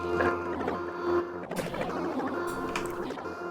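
Native Instruments Absynth synth patch run through a manipulator effect and a high-pass filter, giving a busy, grainy, thinned-out texture that swells and shifts throughout, with no talking.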